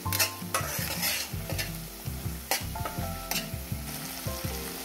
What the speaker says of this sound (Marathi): छान असं तेल सुटेल इतपत छान भाजून घेऊया